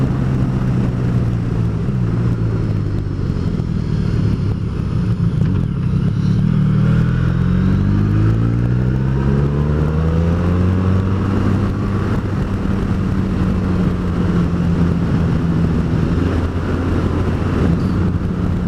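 A Honda VFR1200X motorcycle ridden at a gentle, economical pace: a steady engine drone that rises and falls in pitch through gear changes and bends, under constant wind rush at the microphone.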